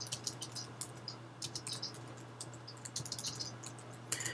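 Rapid computer keyboard typing of an instant message, irregular bursts of light clicking keystrokes, close and quiet over a faint steady hum.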